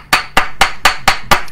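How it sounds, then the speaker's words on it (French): A big wooden mallet delivers six loud, evenly spaced strikes up close, each a sharp thud with a short ring-off and no voices in between. "ce gros marteau en bois."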